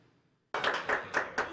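Lawmakers in the National Assembly applauding after a law is approved, a burst of clapping that starts abruptly after near silence and continues in uneven rhythmic pulses, with a voice briefly audible.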